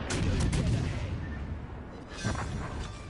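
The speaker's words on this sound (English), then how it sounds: "Enemy destroyer blown up" A destroyer blowing up in a naval warfare video game, heavy booming blasts with a rumbling tail, a second thud following about two seconds later, loud and alone without talk.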